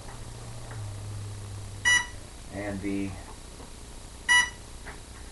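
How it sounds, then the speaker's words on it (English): RC plane electronics on a Hobbyking F4U Funfighter give two short, bright beeps after the battery is connected, with a faint low hum beneath and someone speaking briefly between them. "getting all kinds of beeps."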